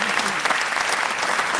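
Dense crowd applause at a French business event, a continuous, even wash of clapping throughout the short stretch.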